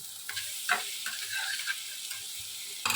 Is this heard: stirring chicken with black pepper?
yes